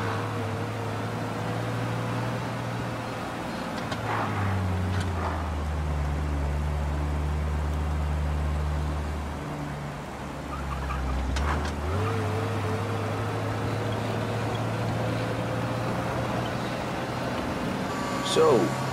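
Car engine droning steadily through a drive in Mafia Definitive Edition, the low hum rising and falling with gear changes and throttle, with people talking over it throughout.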